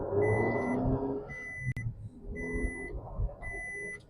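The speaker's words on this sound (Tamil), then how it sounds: "சீட் பெல்ட் வார்னிங் வந்து பார்த்தீங்கன்னா ஃப்ரண்ட்டில் 2 பேர் போட்டோம் ஸ்டில் அடிச்சிட்டு இருக்கு பின்னாடி சீட்டுக்கு" The seat belt warning chime in a 2024 Maruti Wagon R ZXi Plus keeps sounding for the rear seats. A high electronic tone beeps in a regular repeating pattern inside the car, over low road and engine rumble.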